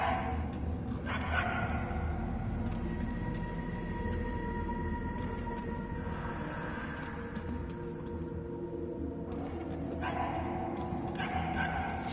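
Puppies bark in a Guardians of the Galaxy video game, yipping and whimpering in repeated bursts over a steady, dense game soundscape of music and ambience, with no talk.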